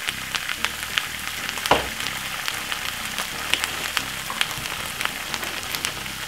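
Quorn meat-free mince for a bolognese sautes in a pan with a steady, close sizzle and scattered pops and crackles, running continuously without any voices.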